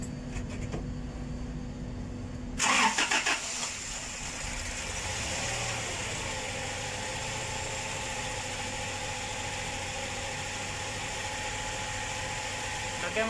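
Toyota HiAce engine, after a fan belt and tensioner repair, cranks with a brief starter whir and then catches into a steady, close idle hum that runs on with faint background voices.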